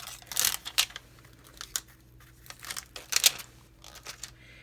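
Scissors snipping out a stamped paper flower for a handmade card, several short crisp cuts and paper rustles in irregular bursts, close and fairly quiet with no talking.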